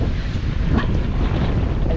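A sailboat crossing toward Mallorca plows through choppy waves in strong wind, with a dense roar of wind buffeting and rushing water that stays loud and steady throughout.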